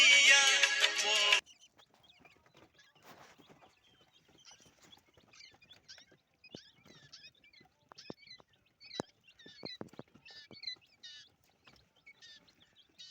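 Young quail chicks cheep in scattered, faint, high chirps after a brief loud burst at the start, with the tiny peeping calls coming irregularly from close by.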